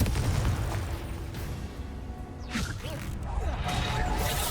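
Explosive blasts from the Bombarda and Confringo spells in the video game Hogwarts Legacy: several booming bursts over a steady rumbling background, with a voice talking over them.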